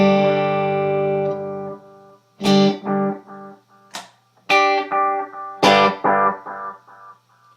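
Guitar volume swells run through an effects unit with tube echo: a sustained chord fades in and out, followed by several swelling notes that rise gently, ring briefly and trail off with echo repeats.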